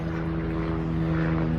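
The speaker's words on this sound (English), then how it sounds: "There was a helicopter going over" A helicopter passes overhead outdoors during yard work, its steady droning rotor and engine hum filling the background continuously, fairly loud and unbroken.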